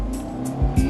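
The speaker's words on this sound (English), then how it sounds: "Nice responsive engine" A car with a responsive engine pulls away from rest, a steady low engine drone rising through the revs, with two short bursts of tyre or drive noise near the end, close and fairly loud.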